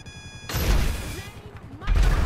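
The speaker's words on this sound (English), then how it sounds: "Now who's shooting me?" Gunfire rings out in GTA 5, a sharp loud burst of shots followed by rumbling echoes, then another heavy blast near the end.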